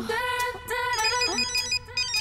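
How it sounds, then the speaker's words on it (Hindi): A mobile phone plays its ringtone, a bright melodic tune of repeating electronic notes, loud and close, running without pause and with no talking over it. "मेरा फोन बज रहा है"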